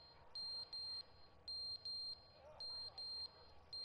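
Repeated electronic beeping in the video game The Stanley Parable, a high, clean tone sounding in short paired bursts in an irregular rhythm, clear and fairly prominent over a faint background hum.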